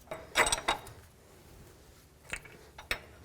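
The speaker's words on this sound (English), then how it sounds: "I'm just gonna make it really tight with the wrench" A wrench tightening a nut on the front lower control arm of a 2007-14 Chevy Silverado, with a burst of close metallic ratcheting clicks followed by a few sharp isolated clanks.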